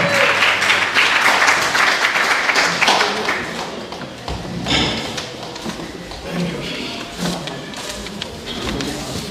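An audience applauds steadily, a dense wash of clapping that fades somewhat, with a few louder claps and thumps mixed in.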